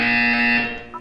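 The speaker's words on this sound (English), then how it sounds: "When you hear the buzzer, look down at the floor." Steady electronic buzzer tone from the Portal 2 video game, a single sustained loud blare with strong harmonics lasting about a second and trailing off at the end.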